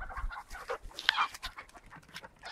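Chickens cluck and squawk nearby, short irregular calls over a busy background with some shuffling movement.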